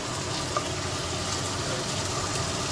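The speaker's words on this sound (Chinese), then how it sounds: "我只要把它平均分布在上面，哦，它每一块都煎得到" Chicken pieces for sesame oil chicken, added after ginger has been stir-fried, fry in a pan with a steady, close, even sizzle throughout and no talking.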